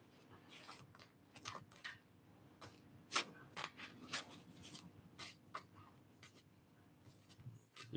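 A tarot deck is shuffled up close, giving soft, irregular bursts of card flicks and riffles with brief pauses between them, quiet against a faint room background.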